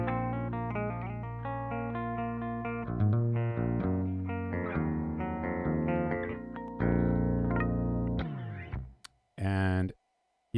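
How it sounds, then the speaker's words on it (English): Thick distorted electric guitar through a Blackstar St James amp with a Live Logic pedal plays a string of sustained chords and riffs, then cuts out into a few sharp clicks near the end. "Let's go ahead and add our distortion as well."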